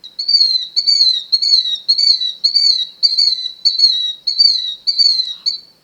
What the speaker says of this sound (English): what noisy bird is in this nest? It's a killdeer.